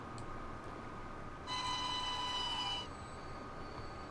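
Trains run in the Transport Fever game during a race of electric high-speed trains: a steady rolling rumble with a bright, sustained squeal-like tone swelling in the middle, fairly faint throughout, with no talking.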